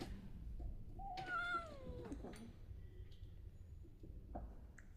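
A pet cat gives one drawn-out, wavering meow near the microphone, followed by quiet rustling and faint shorter sounds.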